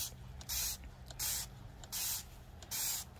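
Four short hissing bursts of a hand sprayer applying sooty mold treatment onto a tree, evenly spaced and fairly close, with quiet gaps and low background rumble between them and no talking.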